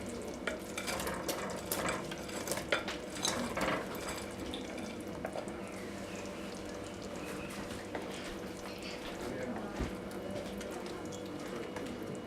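Pieces of fried chicken go into a hot pan and are stirred, producing a continuous sizzle with scattered scraping and clattering strokes, steady and fairly quiet, with no talk.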